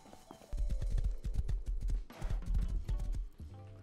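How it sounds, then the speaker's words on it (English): Horse hooves clip-clop in the survival game Rust, a steady run of loud, close hoof strikes with a brief pause partway through, heard alone without talk. "Let's grab my horse and move on."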